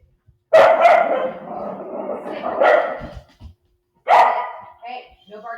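Ludwig the dog barks in two loud, close bursts, the first trailing into a longer run of yaps and the second sharp and short, with a person speaking between them in a poker-game setting.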